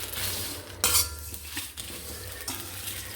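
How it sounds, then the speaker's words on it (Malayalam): A utensil stirs cumin and poppy seeds dry-roasting in a pan for Kerala-style chicken masala powder, with soft scraping, a brief louder clatter near the start and a faint sizzle. "അതിലേക്ക് നമുക്ക് സാജീരകവും കസകസും കൊട്ടിക്കൊടുക്കാം. നല്ലൊന്ന് ഇളക്കി കൊടുക്കാം."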